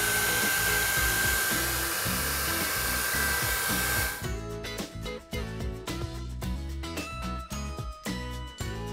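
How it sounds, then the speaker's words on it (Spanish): A hair dryer blows steadily and loudly on hair treated with heat protectant for the first few seconds, then music with a beat takes over while the drone fades. "ahora solo nos queda secar el producto para potenciar su efecto"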